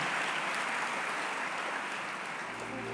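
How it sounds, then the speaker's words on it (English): Sustained applause from the audience at an evening university convocation ceremony honoring an honorary doctorate recipient, a steady dense wash of clapping that stays even throughout and thins slightly near the end. "Another round of applause for the luminary who received his honorary doctorate this evening"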